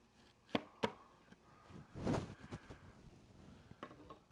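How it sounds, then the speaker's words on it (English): A new knife slices thin pieces from a piece of material, giving a few sharp cutting clicks and a short scraping pass through it, close and fairly quiet, with pauses between cuts. "Let's see how thin of a slice we might be able to get here"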